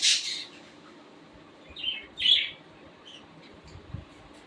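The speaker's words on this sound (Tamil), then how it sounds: "ஆஃப்ரிக்கன் லவ் பேர்ட்ஸ் ப்ரீடிங் பேர் அவைலபிள்." African lovebirds chirp in a few short, sharp bursts near the start and again in the middle, over a quiet room background, with no speech.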